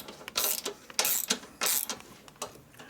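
Ratcheting wrench torquing a bolt on a 1988 Harley-Davidson FXR, a series of short metallic clicking bursts in quick repeated pulls, close and fairly quiet, with no talk.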